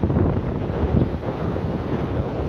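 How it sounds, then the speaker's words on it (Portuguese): Strong wind from an approaching storm roars continuously against the microphone, a loud low rumble with gusty surges and no other clear sounds. "Então, ventando bastante também."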